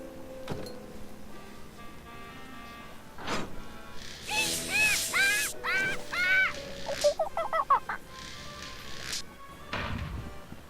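Parrots in the video game Tales of Monkey Island let out a run of harsh, raspy squawks in the middle of the clip, closely spaced and fairly loud, with thuds and clattering before and after.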